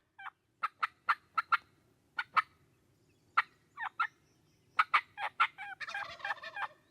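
A wild Rio Grande turkey gobbles in answer to a call, sharp clucking yelps in an irregular series, ending with a rolling gobble, clear against a quiet outdoor background.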